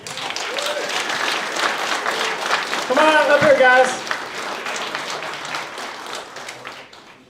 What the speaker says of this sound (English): another round of applause for everyone involved